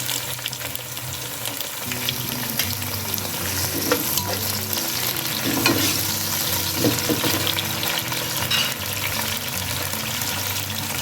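Tomatoes and mixed vegetables sizzle in a garlic tempering, with a steady, loud frying hiss and occasional stirring scrapes throughout.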